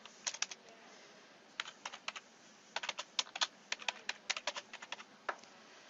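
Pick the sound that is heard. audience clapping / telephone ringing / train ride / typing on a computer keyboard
typing on a computer keyboard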